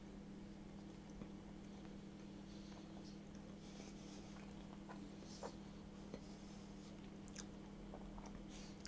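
Ginger banana bread is bitten and chewed close up, giving soft, faint, irregular crunching and mouth sounds over a steady low electrical hum in a quiet room.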